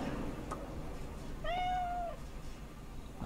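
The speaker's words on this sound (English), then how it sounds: "Nice kitty cat." A single clear cat meow rises and trails off in the Cyberpunk 2077 game world, heard alone over a low background hum.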